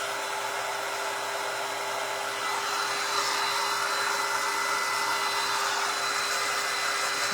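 A hair dryer blows steadily on wet paint on a JOY sign, a loud continuous whoosh with a faint constant hum running underneath.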